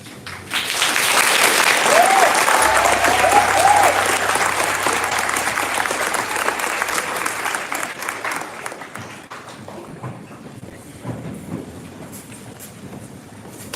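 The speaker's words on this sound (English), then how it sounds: "One more round of applause for Mr. Whitaker" An audience at a memorial celebration bursts into loud, sustained applause that swells quickly, holds for several seconds, then gradually tapers off into scattered claps.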